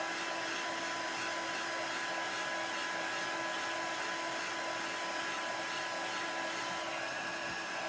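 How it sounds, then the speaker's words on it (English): A super-high-heat craft heat tool blows steadily while drying a craft surface, giving a constant, even whirring hiss with no pauses or speech. "Or you can use a heat tool like this one. These are super high heat, so keep them moving."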